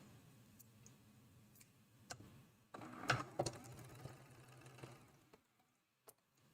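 A faint, steady mechanical whirr of a sewing machine stitching quilt borders, with a few clicks, rising briefly to a busier rattle in the middle before going quiet.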